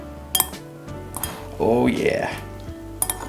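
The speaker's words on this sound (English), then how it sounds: "it's bibimbap, so there's some time to mix" Bibimbap is stirred in a bowl, with sharp clinks of utensil on the dish at the start and end and a scraping, rattling mix in between, while a person makes a brief comment.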